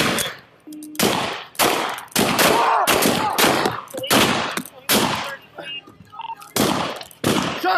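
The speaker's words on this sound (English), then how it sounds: "Shots fired! Police action shooting! He's got a rifle!" Rapid repeated gunshots during a police shooting incident on a residential street, about a dozen loud, close cracks in quick succession with brief gaps, shouting voices mixed in.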